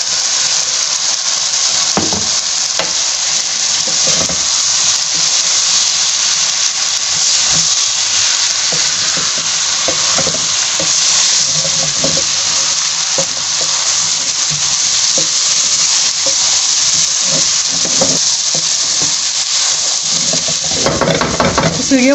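Okra (bhindi) fries Gujarati-style in a pan with a loud, steady sizzle and hiss that runs throughout, broken by occasional stirring and utensil knocks close by.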